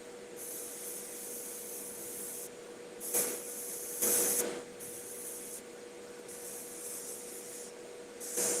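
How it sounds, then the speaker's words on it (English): Airbrush spraying a base layer of paint onto a model, hissing in repeated short bursts of varying length with a faint steady compressor hum underneath, close and quiet. "using the airbrush for expediency here"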